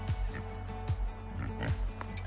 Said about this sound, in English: Oh look, the pigs have followed.